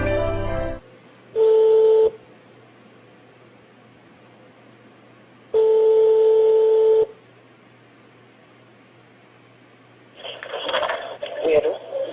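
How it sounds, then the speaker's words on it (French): Telephone line at the start of a recorded phone call, with two long steady ringback tones separated by silence, then rustling noise and a voice toward the end. "la conversation téléphonique enregistrée"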